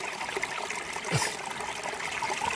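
Stream water in a high mountain valley in Gyeonggi Province rushes over rocks, a steady, close, full-bodied gurgle and hiss that runs unbroken throughout, with no voices.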